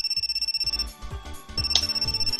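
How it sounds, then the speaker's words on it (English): Cell phone ringtone from the visual novel G-senjou no maou, a bright electronic melody with a steady tone held over a pulsing beat, briefly breaking off midway and then resuming. "Just at that moment, as if God has intervened, my cell phone rang."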